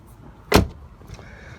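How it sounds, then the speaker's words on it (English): A single solid thunk of a car door shutting on a 2009 Hyundai Sonata Limited V6, one short, close impact followed by a faint quieter knock. "Look at the way the doors close, nice and proper"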